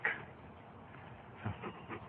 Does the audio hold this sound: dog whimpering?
yes